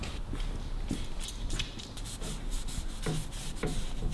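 Rag rubbing over the matte black front forks of a Harley Davidson WLA as they are wiped down with WD-40, a steady soft scuffing with a few light knocks.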